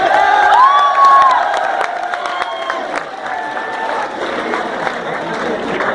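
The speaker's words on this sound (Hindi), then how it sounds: "एक बार जोरदार तालियां" An audience at a Hindi poetry recital in Rohtak claps and cheers, a dense crowd roar with whoops that stays steady for several seconds before easing slightly.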